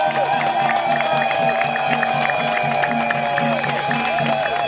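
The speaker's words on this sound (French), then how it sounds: "Je voudrais que tous ensemble nous applaudissions ces jeunes" Outdoor crowd at a march, with cheering voices and sustained tonal shouts or chanting over a busy, loud background of people, clapping mixed faintly within.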